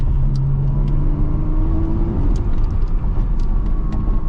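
A 2024 Porsche Cayman GTS 4.0 on the road, its engine rumbling steadily from inside the cabin with a sustained tone and light surrounding road noise, no voices.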